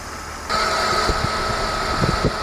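A Jeep Cherokee engine idling steadily up close, with a constant hum and a sustained whine from the air conditioning compressor kicking in partway through.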